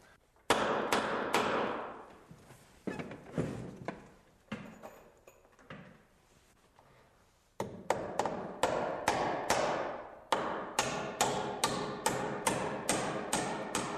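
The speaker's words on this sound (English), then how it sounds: "I'm nailing through the back of the hanger board into the carriages with some 16-penny nails, 2 into each carriage" Sharp hammer blows drive 16-penny nails through a wooden hanger board into stair carriages, coming in quick repeated strikes with short pauses between groups, loud and close in a quiet room.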